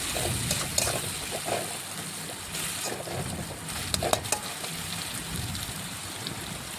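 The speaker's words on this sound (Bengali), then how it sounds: "এই দেখুন আবারও একটু ভেজে নিচ্ছি, একদম লাল লাল করে ভাজতে হবে পেঁয়াজটা।" Onions frying in a pan for a chicken curry, a steady rain-like crackle of sizzling oil throughout with a few sharper pops, close and moderately loud with no voices.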